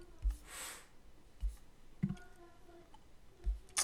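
Computer mouse clicks in Tableau menus, several sharp, close clicks spaced irregularly over a few seconds, heard alone in a quiet room with faint soft rustling between them.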